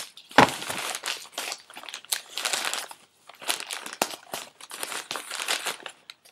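Newspaper sheets wadded and crumpled by hand for a papier mache animal body, close crinkling and rustling in uneven bursts with brief pauses.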